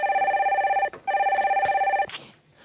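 An incoming call on a radio show's telephone line, two bursts of rapid trilling bell rings separated by a short gap, clear and steady with a brief pickup sound at the end.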